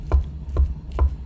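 A knife finely chopping Spam on a cutting board, three distinct solid thuds at a steady pace, close and moderately loud.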